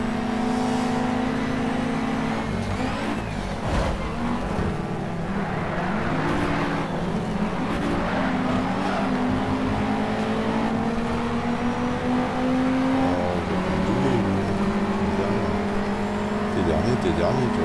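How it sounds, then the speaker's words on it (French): Ford Focus ST racing in the video game Shift 2 Unleashed, a steady engine drone that rises and shifts pitch through gear changes, with other cars and constant game racing noise under it. "Parce que c'est quand même une Ford Focus ST."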